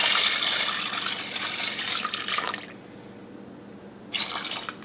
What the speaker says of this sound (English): You're going to add just enough cold water to cover the pasta.